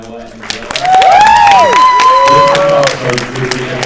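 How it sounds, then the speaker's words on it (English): An audience applauds Will Poulter and Noah Centineo at a film Q&A in a theatre, with loud, steady clapping and several rising and falling whistles over it for about three seconds. "So a round of applause for Noah and Will."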